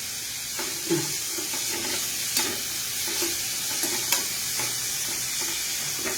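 Ginger and garlic fry in a pan with an even sizzle, punctuated by several distinct scraping stirs of a spoon, close and alone.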